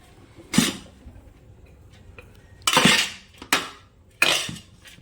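Mixed fried rice being stirred with a metal utensil in a pan, four distinct scraping clinks spaced unevenly over quiet, close and fairly loud.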